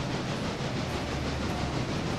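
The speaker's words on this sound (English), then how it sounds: "The train is a-rolling." A Southern Railway H-4 steam locomotive in the railroad game Railroader rolls along slowly, giving off a steady, unbroken rumble and rail noise with a low hum underneath and no clear chuffs.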